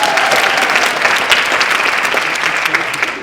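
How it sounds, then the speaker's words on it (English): A group at an improv workshop applauding itself, a loud continuous burst of many hands clapping at once that fills the whole moment with no break. "Please give yourselves a round of applause."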